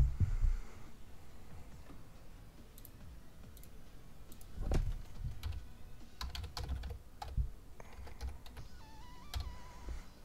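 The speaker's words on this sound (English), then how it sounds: "I always mistype on this keyboard." Quiet, close typing on a computer keyboard during an online card game, irregular clusters of soft clicks over a faint background hum.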